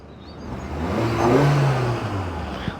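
A small four-cylinder SUV engine, the base model of the car, rises in a smooth rev that swells and settles over a few seconds, steady and fairly close with no voices.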